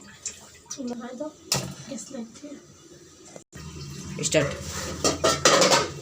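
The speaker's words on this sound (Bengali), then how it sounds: "এখন আমি এটা চুলায় একদম ফুল করে বসিয়ে দেব" A pot of koi fish curry clanks onto a stove with metallic knocks and scrapes, followed by louder rattling and sizzling, while a person talks over parts of it.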